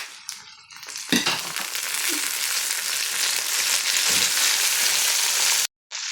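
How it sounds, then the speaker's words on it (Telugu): Tomato pieces dropped into hot oil for Telugu pappu charu set off an immediate loud, continuous sizzle with occasional stirring knocks, close and steady until it suddenly cuts off near the end. "ఇప్పుడు మనము ఈ టమాటో పండు కూడా వేసేద్దాము టమాటో పండు ముక్కలు ఉన్నాయి కదా ఈ ముక్కలను కూడా వేసేద్దాము"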